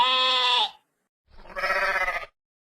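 Cartoon goat bleating twice, a long nasal bleat followed after a short pause by a second, rougher one, close and loud with no talk.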